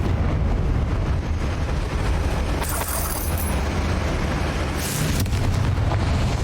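A Confringo spell blast in the Hogwarts Legacy video game: a loud, continuous roaring boom with bright crackling flares midway and again near the end, with no talk over it.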